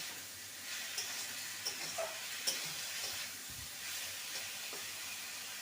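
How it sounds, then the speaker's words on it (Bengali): Cauliflower stems and vegetables fry in a pan with a steady soft sizzle and hiss, punctuated by a few light clinks of stirring, close and fairly quiet, with no talk. "দু মিনিট ভালো করে ভেজে নেব"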